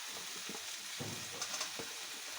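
Salted eggplant and mixed vegetables frying in a pan, a steady soft sizzle with a few brief stirring scrapes and clicks, fairly quiet and close, no voices.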